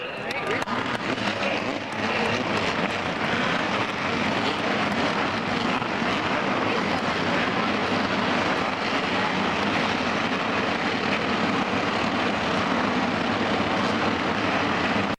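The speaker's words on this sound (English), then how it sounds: "Gentlemen, start your engines." Race car engines firing up at Daytona, a dense, loud, continuous roar of many engines blending into a steady broadband rumble throughout, with a crowd or announcer underneath.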